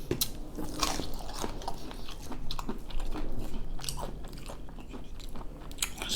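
Crunchy battered onion rings bitten and chewed close to the mic, with dense crisp crackling bursts and wet squishy chewing across the whole stretch, no talking.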